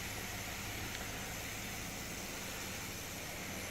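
Saab 340 turboprop engines in a flight simulator, a steady, loud, droning broadband roar with a low rumbling hum, unchanging throughout.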